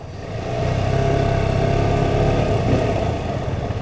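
A KTM RC125 motorcycle pulls away onto a tarred road, its small single-cylinder engine rising in a steady buzzing drone as it accelerates, heard up close from the rider's position.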